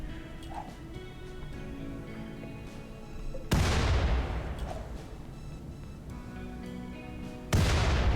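Grenades exploding in the video game RimWorld: two loud booming blasts a few seconds apart, each with a sharp onset and a long rumbling decay, over quiet game ambience and ticking.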